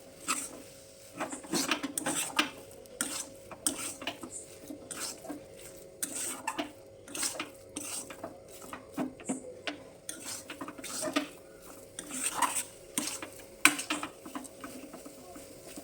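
Banana flower mixture stirred with chopped coriander in a pan, giving repeated close scraping and clinking of a spatula against metal, irregular bursts over a steady low hum, with no talking.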